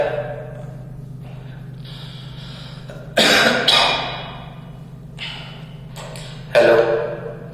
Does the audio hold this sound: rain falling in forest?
no